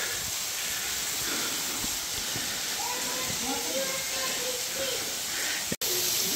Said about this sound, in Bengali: ওপর থেকে সুন্দর ওয়াটারফলসটা পড়ছে